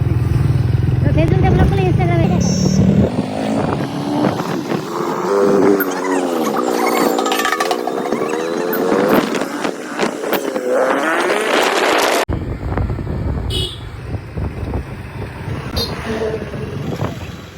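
A new motorcycle ridden on the road to its first servicing, engine tone rising and falling through gear changes under wind rush, with a person talking over it for much of the ride.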